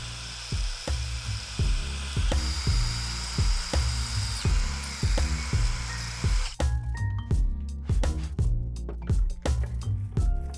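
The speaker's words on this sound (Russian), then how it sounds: "Сейчас рассверлю." An electric drill enlarges bolt holes in a metal table frame, whining steadily and close with rhythmic pulses of bite and load, and the tone shifts partway through as the bit works through the metal.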